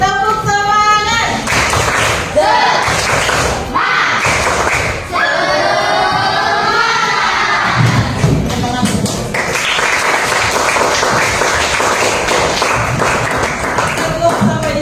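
Children repeat the rhythmic spirit clap at an Indonesian school counseling session, loud patterned clapping with chanted voices in bursts, then a longer stretch of mixed clapping and cheering close by.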